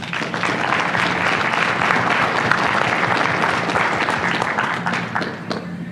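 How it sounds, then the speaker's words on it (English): Loud, dense audience applause at a contractor conference, steady clapping from a large room holding even for about six seconds with no talk. "Give them a round of applause."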